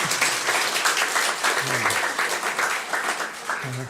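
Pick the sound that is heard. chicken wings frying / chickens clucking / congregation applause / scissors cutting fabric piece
congregation applause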